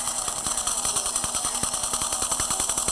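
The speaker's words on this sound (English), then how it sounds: "I'm going to go in this slowly without step drill" Step drill boring into material with a whining, grinding drone and rapid, regular ticking chatter throughout, loud and close, with no voices.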